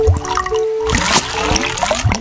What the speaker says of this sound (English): It makes a gurgly-wurgly noise.